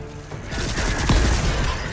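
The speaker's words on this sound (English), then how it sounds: "This is job for the mortar." Mortar fire in the game Volcanoids: a burst of booming launches and explosions rolls in after a quiet start, heavy and rumbling, followed by a sustained clattering barrage.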